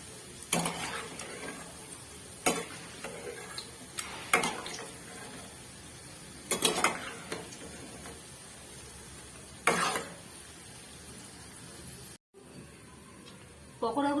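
Fried mixed-vegetable pakoras lifted out of a pan of oil with a metal utensil, sharp clinks and scrapes recurring every couple of seconds over a low sizzle, close by.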